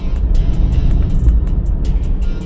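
A car drives along a road in late-afternoon light. Loud, close, steady engine and road rumble runs throughout, with faint regular ticking on top.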